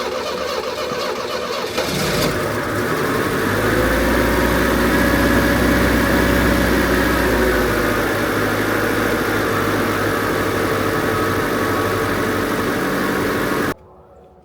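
A classic Renault R16 engine starts and runs at a steady, close idle with a breathy undertone, as crankcase pressure blows out of the oil filler neck, then cuts off abruptly at the end.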